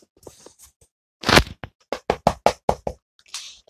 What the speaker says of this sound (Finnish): Joku koputtaa.